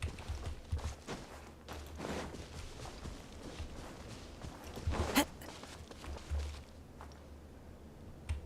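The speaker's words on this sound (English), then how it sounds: "The footsteps." Footsteps of a character walking in the video game Genshin Impact, soft scuffing steps at a steady pace under low background game ambience, with one sharper, louder transient partway through.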